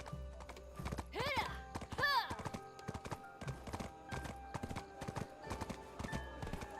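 Hooves clip-clop in a steady, even trot from a horse in the video game Tale of Duoksini, with a short whinny partway through and a faint musical backdrop.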